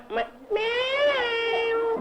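A human voice imitates a cat's meow, a single drawn-out, tonal, close and fairly loud meow held for over a second after a short vocal lead-in.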